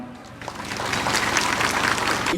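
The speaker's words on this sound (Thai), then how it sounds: "เชิญชวนทุกท่านนะครับ ได้ปรบมือดังๆต้อนรับท่านด้วยครับ" A crowd applauding to welcome a provincial governor arriving at an outdoor mobile medical unit event in Kalasin, Thailand, the clapping swelling from sparse to a dense, sustained patter.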